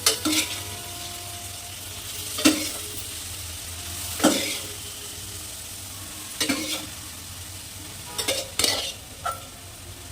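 Cauliflower and prawn masala curry sizzles softly in a pan while a spoon scrapes and clinks against it every couple of seconds, with no talking.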